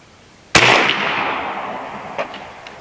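A single loud shot from a Seneca Dragon Claw .50 caliber PCP air rifle cracks sharply, then rings out in a long, slowly decaying reverberant tail, with a faint clink near the end.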